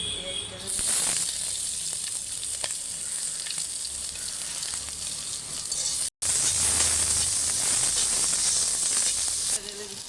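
Sliced onion poured into hot oil with a pinch of black cumin (kalo jeere) for a Bengali home-cooked dish, a steady loud close-up sizzle and hiss that starts abruptly and continues with a brief cut partway through.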